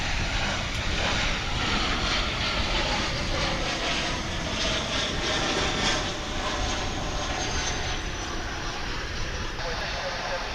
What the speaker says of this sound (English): Got an American Airlines flight from Colorado Springs now approaching.